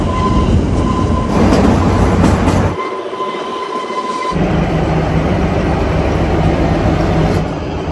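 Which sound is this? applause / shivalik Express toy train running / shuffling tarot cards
shivalik Express toy train running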